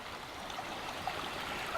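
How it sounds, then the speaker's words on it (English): A creek runs through woods along the Buffalo River Trail in Arkansas, giving a steady, even rush of flowing water with soft trickling detail and no voices. "There's a creek running through here."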